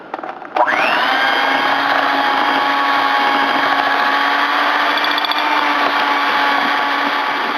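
An electric hand mixer whirs steadily through cream cheese brownie batter with egg and vanilla, a sustained motor whine that kicks in loud after a brief quieter start and holds evenly to the end, no talking.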